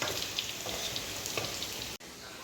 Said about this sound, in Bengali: এখানে আলুটা সবে ভাজছি, এটা তুলে নিয়ে তারপরে পনিরটা ভাজবো